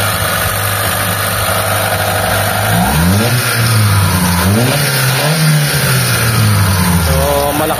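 Idling Mitsubishi Lancer with a faulty carburetor sits close and loud, then revs up and falls back in several uneven swells, the engine note rough and wavering between throttle blips.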